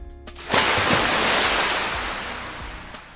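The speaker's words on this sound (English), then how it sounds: "Hear the sound of the waves." Ocean waves surge in and break at the shore where a cooking pot sits in the water, a loud rushing wash that swells after a half-second lull and slowly recedes, with wind buffeting the microphone.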